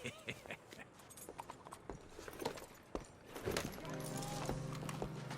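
Hooves clip-clop at a walking pace in Red Dead Redemption 2, soft and fairly close, while voices talk over them and a low hum rises near the end.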